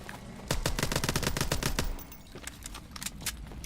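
Rapid automatic gunfire in Advanced Warfare's zombie mode: a loud close burst of evenly spaced shots, then a quieter, more scattered run of shots.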